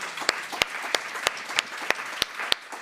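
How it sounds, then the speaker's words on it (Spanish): Sparse, evenly spaced claps at a science fiction literature panel farewell: about ten crisp, separate hand claps in a steady rhythm, close and distinct, with a faint murmur of the room underneath. "vamos a despedir con un aplauso enorme a Lola y Teresa."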